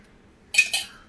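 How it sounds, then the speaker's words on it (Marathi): A kadhai (wok-style pan) is set down on a gas stove, giving two quick metallic clanks close by in a quiet kitchen, with no talk. "आता कढई गॅसवरती ठेवून गॅस ऑन करून द्यायचा"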